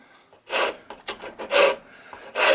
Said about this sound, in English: So now I'm just fine tuning with a real rusty rasp file.